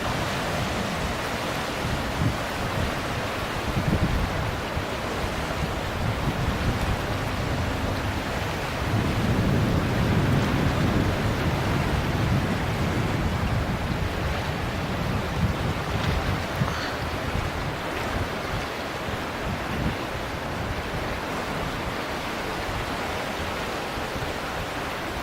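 Fast-moving floodwater on the swollen Mississippi River, a continuous broad rushing roar with buffeting wind noise, steady for the whole stretch and briefly louder midway; no talk.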